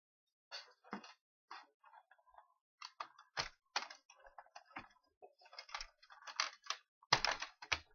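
A computer keyboard is handled and typed on, close and quiet, with irregular clusters of sharp key clicks and taps separated by short silences, and no voices.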